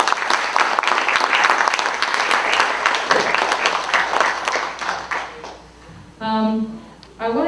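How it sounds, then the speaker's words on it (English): A crowd applauds loudly for several seconds at a music recital, the clapping fading out before a voice begins speaking near the end. "can we give them all one more round of applause?"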